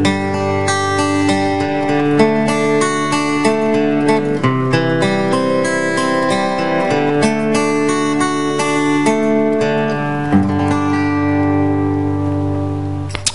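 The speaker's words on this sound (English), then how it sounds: "I'm picking the strings individually while changing the chord shapes with my left hand" Acoustic guitar flat-picking the chords of a song, strings plucked one at a time as chord shapes change, a steady, clear, close melodic pattern played alone without any talking.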